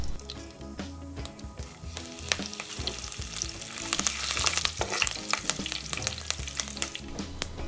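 Cardamom, fenugreek, cinnamon, mustard seeds and curry leaves sizzle and crackle in hot oil for a fish curry, with a steady loud frying hiss and frequent sharp pops and spits throughout.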